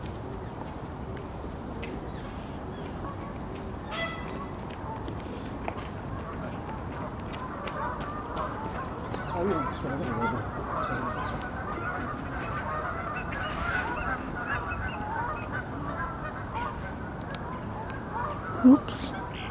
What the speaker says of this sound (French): Il y a des oies, une colonie d'oies.